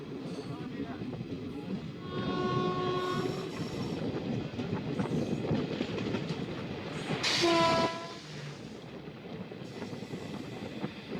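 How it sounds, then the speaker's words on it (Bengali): A train runs on rails through the Kasara Ghat mountain section, giving a steady, close rumble and clatter. A horn sounds twice, once near the start and once louder later, with some voices beneath. "এই ট্রেনটা এখন পুনের দিকে যাবে।"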